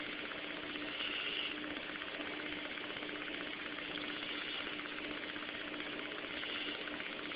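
An upper fan motor with its bearing runs on an inclined mounting, giving a steady, even mechanical hum with a faint buzzing rattle that holds unchanged throughout, with no talking.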